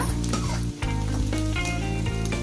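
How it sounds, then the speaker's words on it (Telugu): Onions fry in a pan for a catering-style curry, with a loud, steady sizzle and a brief pause partway through as they are stirred. No voices are heard. "ఇదిగోనండి ఆనియన్స్ ఈ విధంగా వేగిన తర్వాత"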